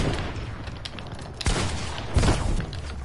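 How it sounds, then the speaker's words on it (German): Gunfire in a video game, loud bursts of shots with a couple of heavy booming impacts over a dense, noisy game soundscape, no speech in the moment. "Er schießt auf mich."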